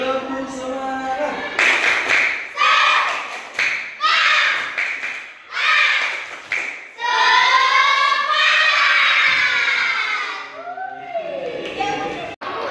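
A classroom of young schoolchildren doing the tepuk semangat routine, with sharp rhythmic bursts of clapping interleaved with loud group chanting, followed by a teacher's voice.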